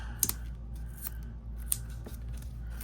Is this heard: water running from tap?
no